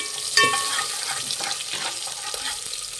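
Green chillies and other ingredients for bele rasam being stirred and fried in a pan, a soft continuous sizzle with light scraping strokes and a brief clink near the start, close and moderately quiet, with no voices.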